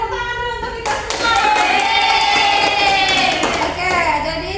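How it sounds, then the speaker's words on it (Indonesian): A class of children applauds in a classroom, with loud, sustained clapping under excited young voices calling out and cheering. "Tepuk tangan dulu untuk kita semua."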